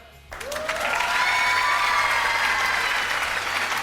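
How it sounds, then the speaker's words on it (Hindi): A studio audience on a Pakistani TV game show bursts into applause after a brief pause, and the clapping quickly rises to a full, steady roar that carries to the end. "बस जितने पैसे मिले उतनी तालियां बजाओ।"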